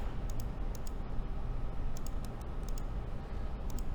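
Someone types a command on a computer keyboard at close range, a quick irregular run of light key clicks and taps over a steady background hiss.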